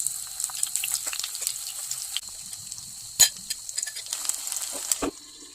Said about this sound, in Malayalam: ഇനി നമുക്ക് കക്ക നന്നായി ഫ്രൈ ചെയ്തെടുക്കാം.